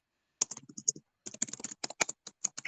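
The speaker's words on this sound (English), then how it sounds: "very clicky keyboard" Clicky mechanical keyboard clatters in quick bursts of keystrokes, close and crisp, with a short pause between two runs of typing.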